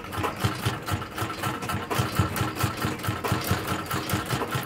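A sewing machine stitches a fabric strip along a sleeve edge, running close and steady with a fast, even mechanical pulse throughout.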